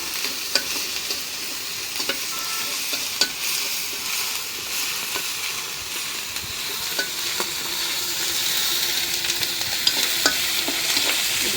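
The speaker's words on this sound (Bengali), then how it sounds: "রসুনটা ভাজে নিই।" Crushed garlic fries in a pan of hot oil, a steady close sizzle with occasional soft stirring clicks throughout.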